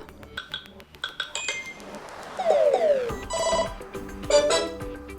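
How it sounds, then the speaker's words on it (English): A Samsung Galaxy Tab S7 plays its notification tones in quick succession, with bright electronic chimes and beeps sounding close and clear, each cut short as the next preview begins. "The same situation will be, for example, for notification sound, simply tap on it."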